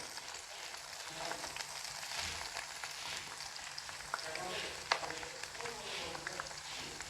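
Okra pieces shallow-frying in hot oil in a home kitchen, giving a steady, moderately loud sizzle with crackling pops and a few sharper spatters, continuous throughout with no talking.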